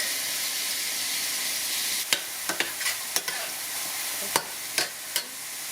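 Onion, chilies and garlic fry in olive oil with a soft, continuous sizzle, while a spatula scrapes and taps the pan in quick strokes through the second half.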